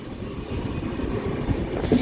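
Tirumala Express train running near Yerraguntla station on the Kadapa to Guntakal route, with a steady loud rumble of wheels and rail noise that continues without pause.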